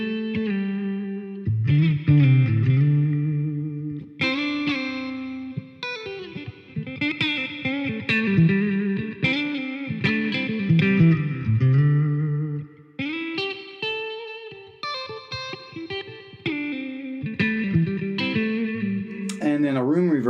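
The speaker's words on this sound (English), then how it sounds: "Plate reverbs were a large metal plate that usually was suspended in oil, and it's a very pleasing sounding reverb." Electric guitar through the plate reverb of a Peavey Vypyr Pro 100 amp, playing sustained chords and melodic lines with a lush, lingering metallic tail, loud and close with no talking.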